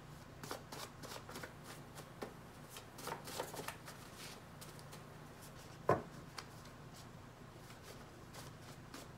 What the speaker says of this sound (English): We're going to go ahead and shuffle,